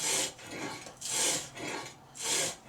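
A blade bevel is rubbed back and forth on 100 grit sandpaper in slow, even rasping strokes, about five passes, close and moderately loud, with no voices.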